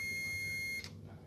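A steady, loud high-pitched beep from a multimeter continuity buzzer held on a shorted diode in a Samsung Smart LED TV power supply, cutting off sharply partway through and leaving faint background hum.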